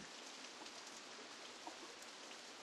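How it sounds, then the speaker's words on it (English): Rain pours in the theme-park game Roller Coaster Tycoon, a dense, even hiss of falling water heard alone and steady throughout. "Yeah, it's raining."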